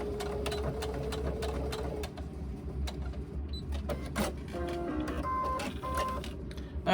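A sewing machine stitches binding onto the top of a mesh pocket for a laptop bag, giving quiet rapid mechanical chatter with sharp clicks and brief pauses.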